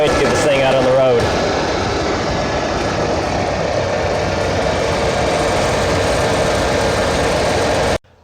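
A 1986 Foxbody Mustang engine idles steadily and fairly quietly, a smooth continuous drone running close by. A brief burst of other noise comes at the start before the idle settles, and it holds on alone until cutting off near the end.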